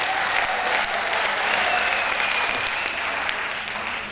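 Loud, sustained applause with crowd cheering fills a hall at a college's 30th annual day celebration, held steady and dense from start to finish.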